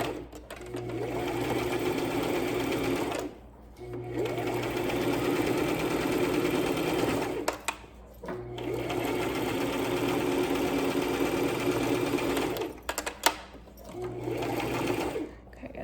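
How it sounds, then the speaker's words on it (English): A sewing machine stitches a lanyard, reversing briefly and then sewing forward to lock the stitch. Its close, steady mechanical whir runs in long bursts broken by a few short pauses. "I'm going to reverse a few and then stitch forward a few to lock my stitch in place"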